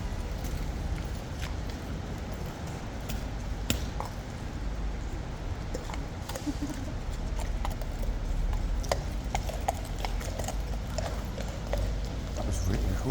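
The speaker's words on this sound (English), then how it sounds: "the horse came super close" A horse passes close by, its hooves giving irregular clip-clops over a broad outdoor rumble, with people talking at times.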